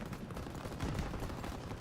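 MP40 submachine gun firing in a World War II shooter game, a steady rapid burst of automatic fire running dense and unbroken through the whole stretch at close range.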